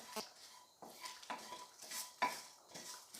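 Whole cardamom, cloves, cumin seeds, bay leaves and a piece of cinnamon stick dry roast in a pan, with soft rattling and scraping as a utensil stirs them in quiet, uneven strokes.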